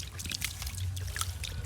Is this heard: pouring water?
yes